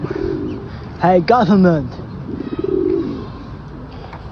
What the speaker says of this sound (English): Look at the pigeon.